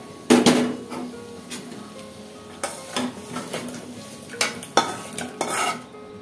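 Radish being added to a pot of cooking maskalai lentils, with a spoon scraping and clanking against the pot in irregular sharp knocks over a faint simmer.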